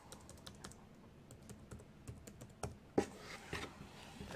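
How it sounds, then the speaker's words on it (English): Keys tap in quick irregular bursts as a password goes into an Acer Predator Helios 300 laptop keyboard, soft close clicks with a firmer keystroke near the end and no talking. "So let's put in our password."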